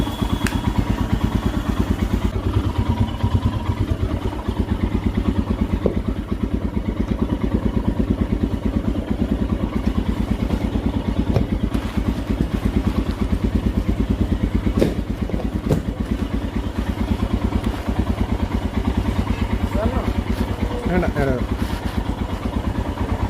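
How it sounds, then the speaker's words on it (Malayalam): A Royal Enfield Himalayan 411 BS4 motorcycle, left unused for nine months, idles after starting, with its single-cylinder engine thumping in a loud, steady, close-up rhythm with light mechanical clatter throughout. "അപ്പോൾ വണ്ടി സ്റ്റാർട്ടായി."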